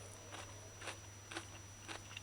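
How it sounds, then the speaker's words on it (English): Crisp bites into a crunchy sweet pepper, four or five quiet crunches at a steady pace, close up and without talk. "you take the sweet pepper or the paprika is crunchy, very crunchy"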